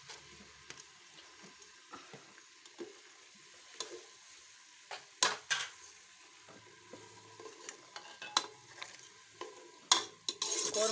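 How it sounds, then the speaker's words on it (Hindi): Onions browning in ghee in a pot for chicken korma, a soft, steady sizzle with scattered stirring scrapes and clinks from a spoon, a few louder clatters near the end, no voices. "अब इसमें प्याज ब्राउन करते हैं।"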